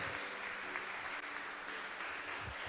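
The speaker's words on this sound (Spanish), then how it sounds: "Dele un aplauso fuerte al Señor" Steady crowd applause from a church congregation fills the whole stretch, many hands clapping at once in a dense, continuous wash with no voices standing out.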